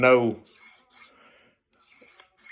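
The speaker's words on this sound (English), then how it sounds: "it's a really good sharpening system" A knife blade rubbed along a two-sided sharpener with fine and coarse faces, giving several short, hissing rasping strokes separated by brief pauses, after a quick burst of a voice at the start.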